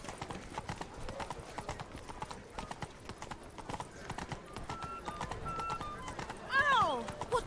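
Hoofbeats of Roach the horse in The Witcher 3: Blood and Wine, a rapid steady clip-clop close by, ending with a whinny, while a voice talks over the hooves.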